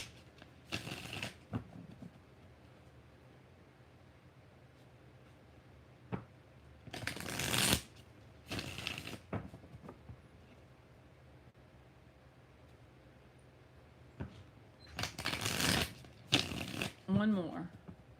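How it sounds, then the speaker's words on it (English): Tarot cards are shuffled in several quick riffling bursts spaced several seconds apart, with quiet gaps between them and a faint voice near the end. "3 more shuffles."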